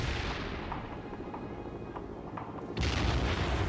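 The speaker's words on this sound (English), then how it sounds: "Fire mission received. Putting rounds on target," Artillery fire in the war video game World in Conflict, heavy booming rumbles rolling under dense battle noise, then a louder blast surge toward the end.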